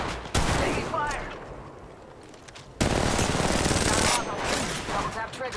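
Automatic gunfire in the Apex Legends video game: loud, sustained bursts of rapid shots, a brief lull, then another heavy volley close by, with speech faintly mixed in.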